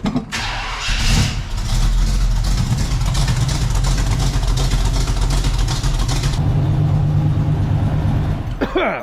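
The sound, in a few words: cammed Chevrolet C10 engine exhaust through Dynamax mufflers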